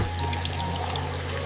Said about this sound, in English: turns on the shiny water.